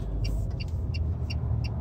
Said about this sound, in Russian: Выезжаем на трассу.